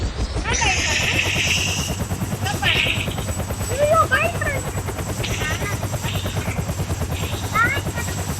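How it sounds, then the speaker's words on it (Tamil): Helicopter rotor whine in a video game, a steady loud drone with a high engine tone, heard under excited speech from players throughout. "வா சீக்கிரம் வா, ஹெலிகாப்டர்ல போறோம்."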